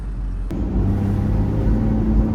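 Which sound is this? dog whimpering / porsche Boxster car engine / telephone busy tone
porsche Boxster car engine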